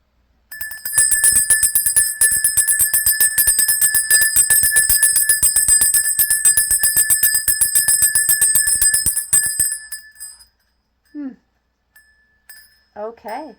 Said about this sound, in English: my sad little bell sound